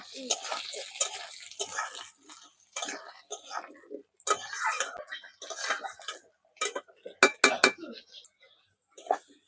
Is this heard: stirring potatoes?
yes